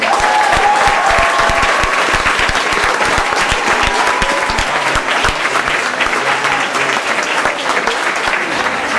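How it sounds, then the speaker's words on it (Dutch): A theatre audience at a community stage performance of The Lion King applauds, a dense, sustained wash of clapping from a large crowd that holds steady throughout. "En daarvoor een applaus."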